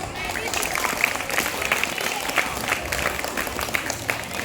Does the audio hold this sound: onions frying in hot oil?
no